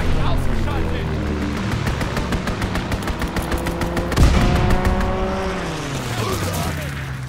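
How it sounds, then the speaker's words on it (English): Strafing run in Call of Duty: WWII, team deathmatch: dense rapid gunfire bursts run continuously with a heavier impact boom midway, while a low engine drone and a game announcer's voice sit beneath the clatter. "Strafing run inbound."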